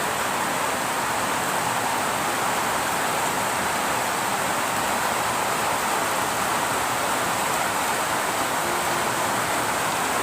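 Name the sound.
rain falling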